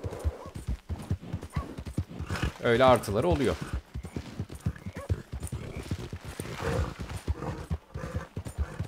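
Horse hooves clip-clop steadily in Red Dead Redemption 2, with a brief whinny midway, heard under someone talking in Turkish.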